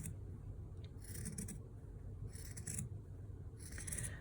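Scissors cut through an old cotton t-shirt in three close, crisp bursts of snipping and rasping fabric, separated by short quiet pauses, with no talking.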